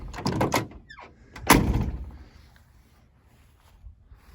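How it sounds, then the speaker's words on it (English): A few doors of a 1969 Dodge Charger thunk shut in quick succession, fairly close, with a louder slam in the middle and quieter handling noises afterward. "All the doors open and close as they should."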